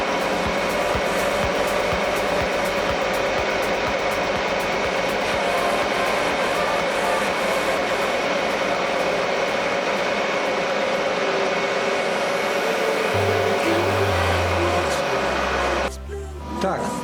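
A metal lathe turning at 530 rpm cuts a thread with a cutting tool, giving a loud, steady mechanical drone that holds for about sixteen seconds before the machine winds down to a low hum.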